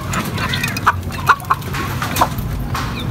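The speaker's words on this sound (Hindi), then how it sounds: "ये मुर्गा ऐसा छिट्टा है जिसकी हद नहीं है" A rooster lets out several short, sharp clucks at irregular intervals, close by, over a constant noisy outdoor background.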